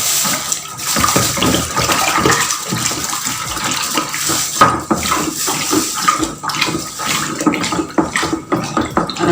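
Water pours and splashes into a container for dissolving caustic soda when making liquid soap, a close, fairly loud, continuous gushing that carries on alone throughout.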